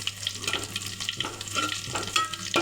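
Ingredients for a beef curry sizzle in a pan as they are stirred and moved around, with soft scraping strokes and a steady close frying hiss throughout and no talking.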